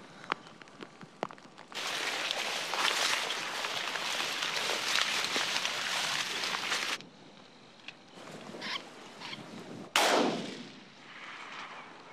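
A shotgun fires during a snipe hunt in marshland in Quebec, with a sharp, loud blast near the end after rustling movement and footsteps through wet ground.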